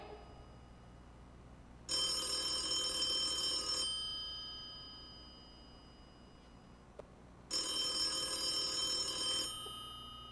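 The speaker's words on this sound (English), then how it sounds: "Let it ring. Let it go on ringing." An old-style telephone bell rings indoors in two long bursts of about two seconds each, separated by a quiet pause, fairly faint against a low background hum.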